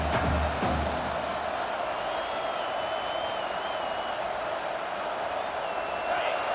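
Stadium crowd roar in the College Football 26 video game, a steady dense wash of cheering that holds at an even level throughout, with no clear speech over it.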